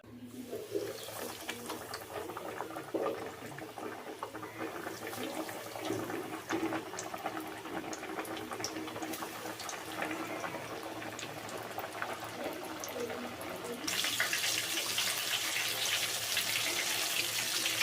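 Small lote fish (Bombay duck) coated in semolina deep frying in hot oil, a steady bubbling, boiling roar close by that grows louder and brighter near the end, with no talking.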